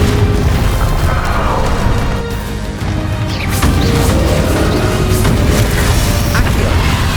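Confringo fire spell blasting in the Hogwarts Legacy video game, a loud, continuous roaring rumble of booming bursts and crackling impacts with a brief dip in the middle, dense and close.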